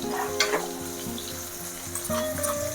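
Crushed garlic fries in a pan for an ash gourd and lentil dish, giving a steady close sizzle with light stirring scrapes and soft music in the background, and no talking.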